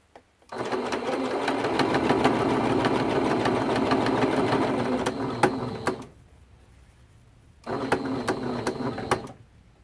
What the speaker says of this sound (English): I'm going to go ahead and do some back stitches